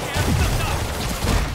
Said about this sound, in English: APC under fire. Repeat, we are taking fire.